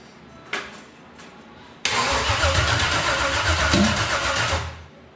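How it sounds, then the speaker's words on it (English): A car engine is cranked over for its first start after mechanical work: a couple of brief clicks, then a loud, steady buzzing churn of the starter cranking for about three seconds before it cuts off. "here we go. First turnover."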